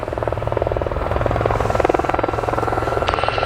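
Gazelle helicopters of the Gazelle Squadron fly a display at the RAF Cosford Airshow 2024, their rotors giving a loud, steady rapid chopping throb with a turbine whine, close and continuous without talk.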